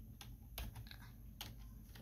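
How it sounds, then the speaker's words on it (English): Keys on a Razer computer keyboard are pressed one at a time, a few sharp, close clicks spaced irregularly against a faint background hiss, with no talking. "watch what it does when I press a key"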